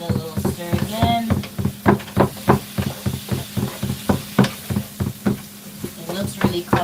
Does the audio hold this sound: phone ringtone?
no